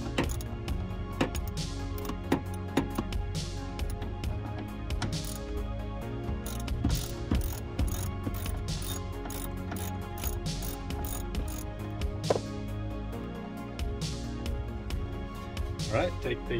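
Repeated clicking of a ratchet tightening bracket hardware for a Jeep cargo storage rack, close and busy with rhythmic metallic ticks and scrapes, while someone talks throughout.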